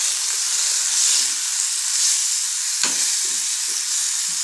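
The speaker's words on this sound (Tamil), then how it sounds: "இப்போ நம்ம அந்த தேங்காய், சீரகம், பூண்டு அரைச்சி வச்சதை இதோட போட்டுடலாம். போட்டு சும்மா ஒரு 2 கிளறி விட்டோம்னாக்கா போதும்." Ground coconut, cumin and garlic paste sizzles steadily in a pan of dhal, with a soft scrape of stirring near the middle and a continuous close frying hiss throughout.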